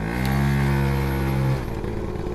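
A 1978 Honda NC50 moped drones steadily while riding, with a strong buzzing engine tone that shifts down and eases about two-thirds of the way through.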